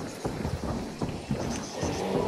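A horse's hooves clip-clop in a Western video game, a few uneven thuds at moderate loudness over a steady ambient background, with no voices.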